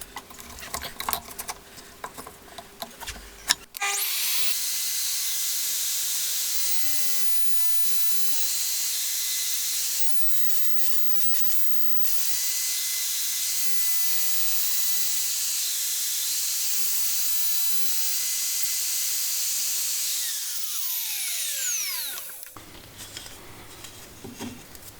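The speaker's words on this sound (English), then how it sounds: "once I've moved it into position with this line, we'll just go down, along, up until we get through to the bottom" A router bit plunges and cuts a slot through plywood for a shooting board: a loud, steady high-pitched whine and hiss running about eighteen seconds with slight dips, starting and stopping abruptly.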